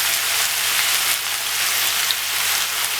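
Homemade chilli paste fries in a pan, giving a steady, close, even sizzling hiss that carries on without a break or any talking.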